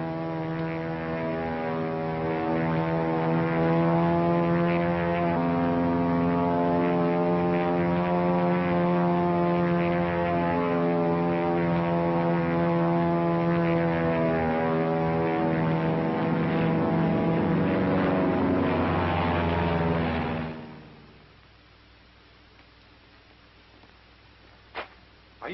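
A P-40 fighter aircraft drones past in a steady propeller roar with strong engine harmonics for about twenty seconds, then the noise cuts off abruptly, leaving a quiet background with a single faint click near the end.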